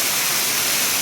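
Kirimutti Ella waterfall in Sri Lanka pours with a steady, dense roar of rushing water, loud and close, unbroken and without voices.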